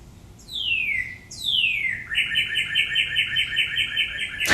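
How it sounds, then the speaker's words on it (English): Birds outside a window give two clear, downward-sweeping whistled calls, then a fast, rhythmic trill that carries on steadily, close and fairly loud over a faint background. "Just some birds outside my window."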